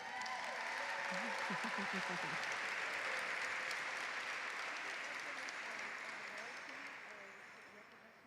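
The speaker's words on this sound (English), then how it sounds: "Can we get another round of applause for our mayor?" Sustained audience applause for the mayor at an American Indian Heritage Month celebration, a broad wash of clapping with voices briefly rising near the start, slowly fading over the last seconds.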